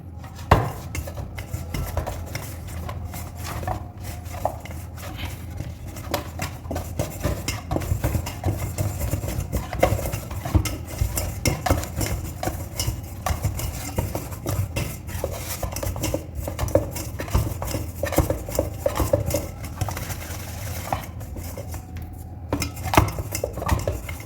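Wheat flour dough for crispy sweet snacks is mixed and kneaded by hand in a bowl, producing constant close clattering, scraping and soft thuds with an irregular rhythm and no talk.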